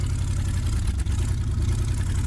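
Steady low rumble of an old 1940-41 Ford truck engine with a compression problem, running continuously and close by with a rough, throbbing texture.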